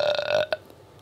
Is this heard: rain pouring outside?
no